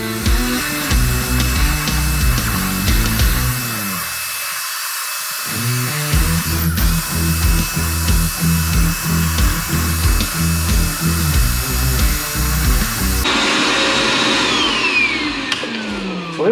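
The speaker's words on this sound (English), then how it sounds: "So let's vacuum that" A vacuum cleaner cleaning car floor mats gives a loud, steady whine that drops out briefly for about a second, then carries on, with its pitch and tone shifting toward the end.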